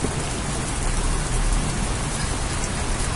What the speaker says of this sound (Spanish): Desde el cielo, la lluvia comienza a caer como una cascada.